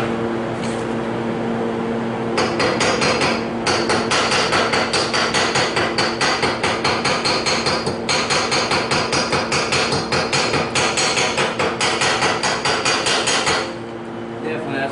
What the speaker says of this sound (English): go ahead and bust the slag off here